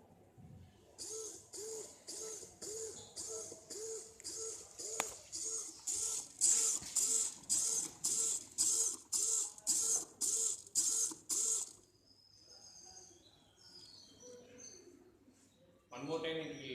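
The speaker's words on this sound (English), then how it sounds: "The shaking process will be repeated for 4 times to stir the solutions thoroughly." An Agribot soil testing machine shakes its sample solutions in about a dozen evenly spaced mechanical bursts, each a short rattling whir with brief pauses between. The bursts are steady and close, then stop, leaving quieter mechanical noise.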